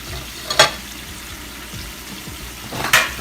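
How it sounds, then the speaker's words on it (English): Coconut oil cooking in a pan, with a steady low sizzle and two brief, louder crackling bursts. "Our oil is still cooking"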